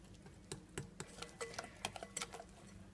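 Flour being stirred into chocolate lava cake batter in a bowl, with soft, scattered spoon taps and scrapes at an uneven pace, faint and close by.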